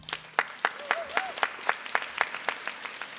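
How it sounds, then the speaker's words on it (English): Applause from an audience at a 2016 high school graduation ceremony, steady overlapping claps with sharper bursts, moderately near, and brief voices faintly mixed in. "so give them a round of applause"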